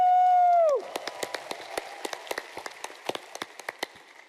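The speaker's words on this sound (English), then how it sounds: "Big applause!" An audience at a convention bursts into applause after a sustained tone fades. Many sharp claps ring out close and loud over a steady crowd clatter.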